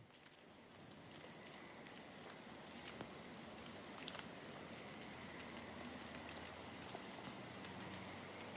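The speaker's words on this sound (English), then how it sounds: "That is the sound of caterpillar poop falling through the trees, along with some debris and probably some munching." Caterpillar droppings and bits of debris falling through trees, a steady dense patter like light rain with scattered sharper ticks, continuous and fairly faint throughout, no voices.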